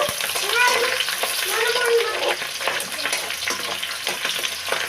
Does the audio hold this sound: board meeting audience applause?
no